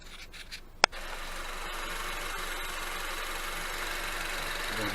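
Engine of a 2014 Honda Civic 1.8 i-VTEC running steadily after an eFlexFuel ethanol kit install, a continuous mid-level hum with broadband noise following a brief sharp click near the start.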